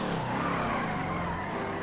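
Modified Ford Mustang engine in GTA 5 roaring steadily at close range, a dense continuous growl with tyre noise, no talk.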